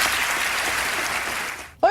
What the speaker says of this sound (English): Look at the bipartisan applause